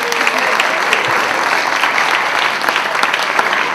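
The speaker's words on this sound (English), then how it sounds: "Give them a round of applause." Graduation ceremony audience applauds steadily, a dense, loud wash of clapping from a large crowd throughout, with a few cheers.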